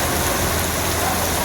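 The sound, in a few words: heavy rain in Surat streets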